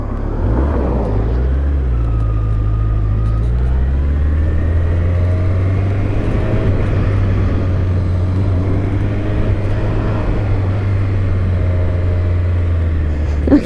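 A Honda CB1100 motorcycle cruises along a main road with a loud, steady low engine drone and rushing road noise throughout, its pitch shifting slightly early on.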